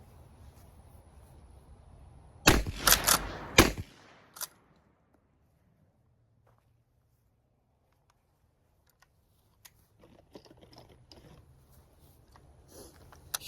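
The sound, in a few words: Winchester lever action 12 gauge shotgun firing shots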